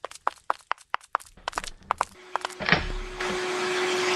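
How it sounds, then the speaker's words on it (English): Footsteps tap rhythmically at first, then a vacuum cleaner switches on and settles into a steady whining hum, running on a table where it sucks up sauerkraut. "get that vacuum cleaner off the table. You're sucking up all the sauerkraut."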